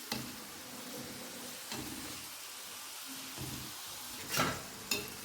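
Sambar vadi fries in hot oil with a steady, soft sizzle that continues throughout. A few louder clinks and stirring knocks sound near the end.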